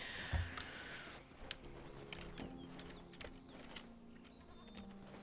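Lambs and llamas in the online game Black Desert Online make a single bleat near the start, followed by soft ambient game sounds, faint clops and scattered clicks, all quiet and distant.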